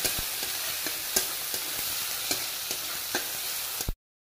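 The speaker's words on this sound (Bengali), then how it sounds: "এর মধ্যে দিয়ে দেব রসুন, গ্রেটেড করা রসুন, লঙ্কা কুচি, আর এতে ভেজে দিলাম।" Grated garlic and chopped chili fry with browned onion in a pan, giving a steady loud sizzle punctuated by regular spatula taps and stirs before cutting off abruptly.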